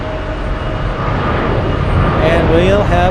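American Airlines 66 Heavy jet departs JFK airport, a broad, steady engine roar building slightly in loudness with a faint rising whine near the end, while a person talks over it.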